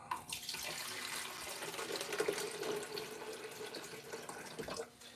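Water pours steadily from a jug for about five seconds at a griddle station, a continuous splashing trickle close by that swells briefly near the middle and stops abruptly at the end.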